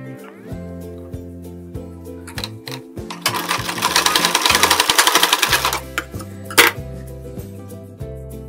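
A sewing machine joins blouse pieces in one sustained, loud rapid stitching run of a few seconds. Quieter short clicks come before and after, and steady tonal music plays throughout.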